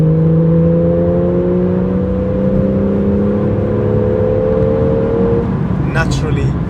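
Porsche 911 Carrera GTS of the 991.1 generation, naturally aspirated from factory, holds a steady loud engine note throughout, with a brief higher burst near the end and a voice talking over it.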